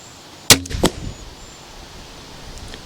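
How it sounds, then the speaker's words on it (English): A single sharp crossbow release snaps close by as it is shot at a bullseye target, followed by a quick thud and short rattle, then quiet. "I'm going to shoot at the left bullseye"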